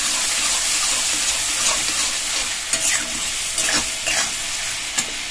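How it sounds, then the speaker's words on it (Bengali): Ground cumin, ground coriander and ginger paste stir-fried in a pan, with a steady loud sizzle and scraping stirs throughout, close and continuous, with no one speaking. "ভালো করে কষিয়ে নেব।"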